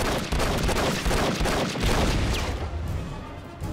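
An Enter the Matrix game grenade goes off as a loud, rumbling blast mixed with bursts of gunfire that roll on for a few seconds and then fade into a softer tail.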